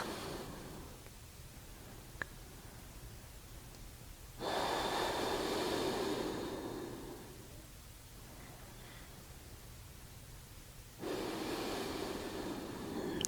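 Slow breathing in and out through the nose during a gentle yoga practice, two long hissing breaths standing out clearly against quieter stretches of soft air, close and with no talk.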